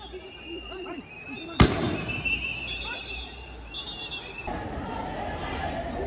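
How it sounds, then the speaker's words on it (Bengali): A police sound grenade goes off at a student coffin procession near TSC, a single sharp, loud blast that echoes briefly before crowd noise, whistles and chatter carry on. "এরপর টিএসসির উদ্দেশ্যে তারা কফিন মিছিল শুরু করলে পুলিশ সাউন্ড গ্রেনেড ছোড়ে।"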